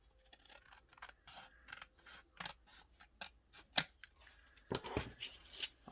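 Paper being cut with scissors while making a tag, a series of close, crisp snips and scraping slices in uneven rhythm, quiet overall with a few sharper cuts toward the end.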